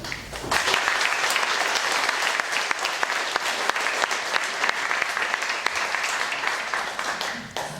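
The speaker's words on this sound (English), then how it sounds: "please join me in giving a big applause to Aaron and Jim from ILM" A conference crowd applauds two speakers from ILM at a tech talk; a broad, steady wash of many hands clapping starts abruptly, stays even and fairly loud for several seconds, then eases slightly at the end.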